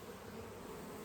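Honey bees swarm and buzz at an opened beehive that has just been pried apart, a close, steady, dense drone with no pauses for the whole second.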